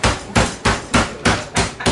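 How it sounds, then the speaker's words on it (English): A hammer pounds six times in a steady, quick rhythm, each strike loud, close and heavy, with no talk over it. "Mind if I hammer away?"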